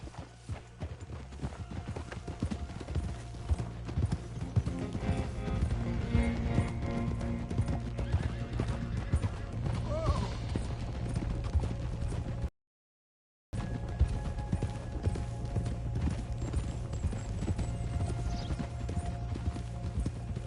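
Horses in the stables of a manor in the Red Dead Redemption 2 video game, with steady clip-clop of hooves and occasional neighs and whinnies over a constant ambient bed, interrupted by a brief silent gap.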